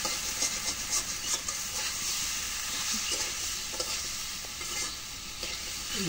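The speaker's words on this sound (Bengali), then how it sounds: "এখন কষানো হয়ে গেছে এখন ঝোল দিয়ে দিই" A sautéed curry in a pan hissing and sizzling steadily and loudly, with faint stirring scrapes running through the continuous frying noise.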